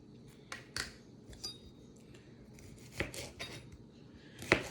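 Knife and metal clinks ring out as tomatoes are cut into small pieces on a kitchen surface, several sharp, close taps scattered irregularly over quiet background.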